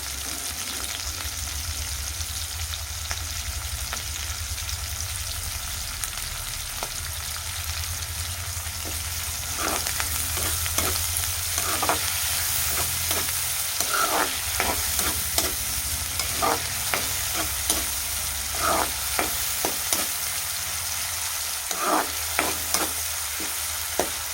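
Curry leaves frying and being stirred in a pan for an egg and ivy gourd curry, with a continuous oily sizzle and irregular scraping and spatter clicks that grow busier over the second half.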